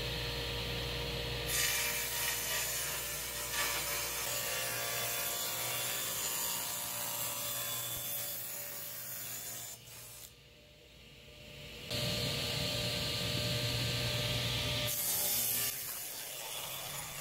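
Plywood side material being cut with a power saw in a cabinet-building workshop, a loud steady machine drone with grinding cutting noise, dipping briefly before the motor surges back at full level.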